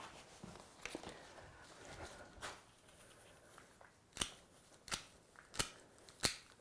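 Scissors trim chunky fibre from a handmade heather lobster pot, making four crisp, close snips at even intervals after some quieter rustling and handling noise.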